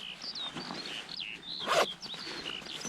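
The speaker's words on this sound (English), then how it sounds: "Here you have the zipper" A zipper on tactical combat pants is pulled in one short, loud rasping burst near the middle, against a quiet background with faint bird chirps and soft rustling.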